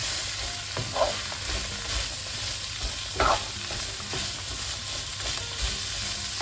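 Chicken with red curry chili paste and mixed vegetables stir-frying in a pan, a steady soft sizzle with occasional scraping stirs of a utensil, close and moderately quiet, no talk.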